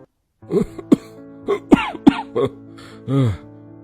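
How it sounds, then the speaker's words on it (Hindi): A character in a Hindi animated cartoon coughs repeatedly in short, harsh bursts, close to the listener, with brief pauses between and a longer hacking cough at the end. "खांसी आ रही है"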